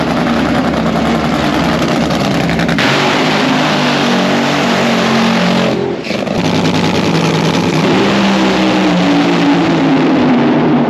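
NHRA drag race cars at the Winternationals, a loud sustained engine roar with rising revs, a brief dip around the middle, then more roaring acceleration, close and overwhelming.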